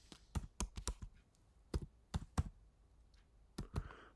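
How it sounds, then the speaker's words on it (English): Sparse keystrokes on a computer keyboard while an email address is typed: short irregular bursts of clicks with pauses between them, close and fairly quiet, with no talking. "I'll even type it in here."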